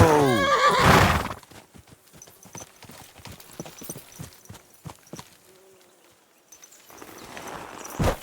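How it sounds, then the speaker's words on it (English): A horse in Kingdom Come: Deliverance 2 gives a loud, close neigh at the start, followed by a run of steady clip-clopping hoofbeats with a brief pause near the end. "I want to see the speed of the horse."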